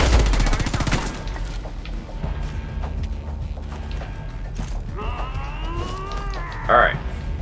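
Gunfire rattles in the Homefront The Revolution video game, a loud burst of rapid shots at the start, then quieter mechanical clatter and scattered game sounds, with a sharp effect near the end.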